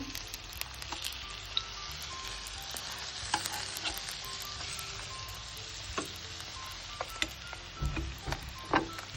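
Paneer burger patty frying until crisp in a pan, a steady close sizzle with occasional clicks and scrapes as it is turned, no talk.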